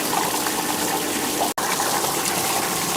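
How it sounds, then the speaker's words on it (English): A Bestway pool sand filter pump runs on its rinse setting, giving a steady loud rush of water and motor noise that holds constant apart from a brief split-second dropout midway. "Turn our pump back on for a minute"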